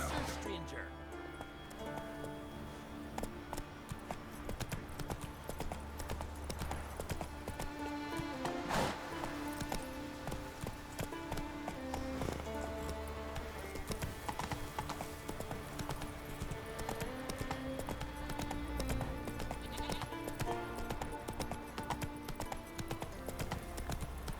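Horse hooves clip-clop steadily through a ride in The Witcher 3: Wild Hunt, a continuous walking rhythm mixed under game music and occasional character voices.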